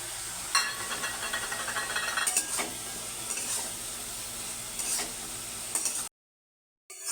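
Brinjal frying in fish oil sizzles steadily in a pan, with stirring scrapes, continuous and close, before cutting to silence near the end.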